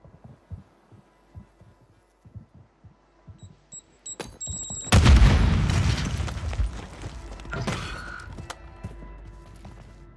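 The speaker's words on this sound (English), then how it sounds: "Bet that you perfectly launched that grenade." A grenade blast in the Warzone video game, with a sudden loud boom around the middle that rolls into a long, noisy rumble and fades slowly. Faint beeps and soft clicks come before it.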